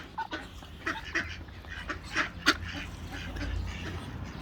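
Ducks on a farm pond quack and honk in several scattered calls over low outdoor rumble, moderately close and without talk.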